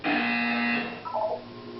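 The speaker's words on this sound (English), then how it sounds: "You will hear a buzzer." A loud, steady electronic buzzer from the Portal 2 video game sounds for about a second, then gives way to fainter warbling tones, with no talking.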